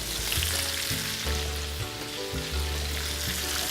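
Peppers sizzle in a pan of shrimp stir fry, a steady close crackle of frying with low knocks and scrapes from stirring layered over it.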